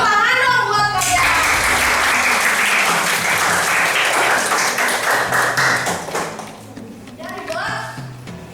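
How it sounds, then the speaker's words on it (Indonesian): Students in a classroom burst into sustained clapping, dense and loud for several seconds before thinning out, with a voice and brief talk surfacing near the end. "Tepuk tangan dong buat kalian."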